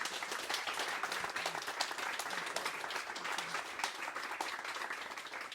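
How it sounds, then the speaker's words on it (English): Audience applause at a community talk on protecting environmental land in Kariong, steady dense clapping from a roomful of people sustained evenly for several seconds at moderate volume. "Let's give them a round of applause of gratitude once more."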